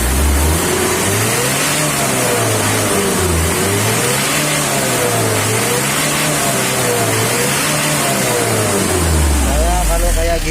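A Mitsubishi L300 diesel engine with a factory-sealed injection pump is revved repeatedly in slow rising and falling waves, loud and close, ending with a sharper rev.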